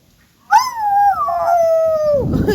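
A person imitates a dog's howl: one sustained, wavering howl that slides down in pitch before breaking off, loud and close.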